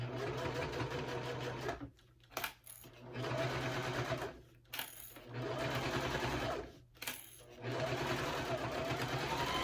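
A sewing machine back stitches a wristlet bag in several rapid bursts of whirring needle motion, separated by short pauses, loud and close with a steady hum underneath.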